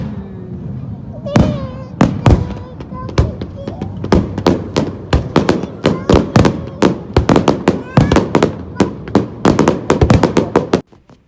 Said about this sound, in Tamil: இந்த ஃபயர் ஒர்க்ஸ் பார்த்தீங்கன்னா ஆக்சுவலி இந்த டைம் தான் ரொம்ப கம்மியாக வந்துட்டு ஃபயர் ஒர்க்ஸ் போட்டது.